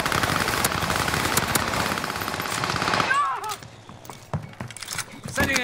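Rapid automatic gunfire rattles in a Call of Duty match, a dense, loud burst lasting about three seconds. Sparser scattered shots and clatter follow, with footsteps and brief voice chatter mixed in.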